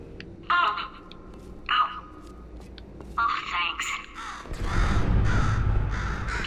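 A bird cawing in the video game Portal 2, with several loud harsh caws spaced apart, followed by a louder swell of rumbling ambience and a voice speaking.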